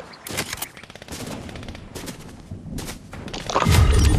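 Rapid bursts of gunfire in the video game Fortnite, loud repeated shots and thuds in quick succession, with heavier booming impacts near the end.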